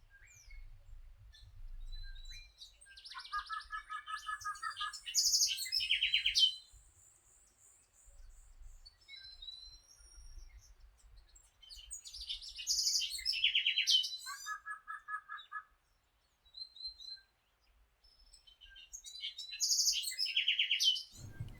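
Several forest birds call and chirp in repeated bursts in a Costa Rican rainforest, some trilling, others sharp and high, with near-silent pauses between phrases.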